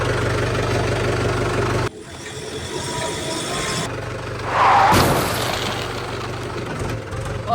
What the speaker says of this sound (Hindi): ये तो ट्रैक्टर गाड़ी ने जीप गाड़ी को टक्कर मार दी है।